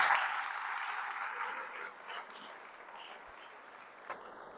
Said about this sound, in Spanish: Dese un aplauso a usted mismo